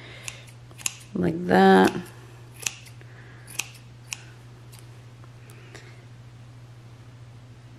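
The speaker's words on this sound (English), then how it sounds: "So I'll just trim so that there's no extreme wayward ones." Scissors trim the stray yarn ends of a crochet toque, giving a handful of sharp, close snips spaced a second or so apart, with a brief spoken remark near the start.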